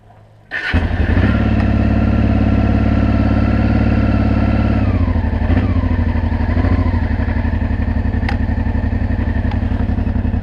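A Honda RD07 Africa Twin motorcycle starts up and rides off, its loud, steady engine note close at first, then shifting in pitch as it pulls away.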